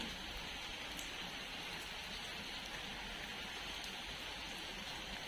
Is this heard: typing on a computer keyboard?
no